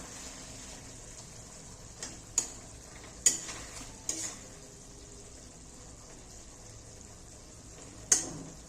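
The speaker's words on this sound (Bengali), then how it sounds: "এবারে আবার একটু নেড়ে দেব।" A Bengali-style egg curry is stirred in a cooking pan, with quiet, low sizzling and a few sparse metallic scrapes and clinks of the utensil against the pan.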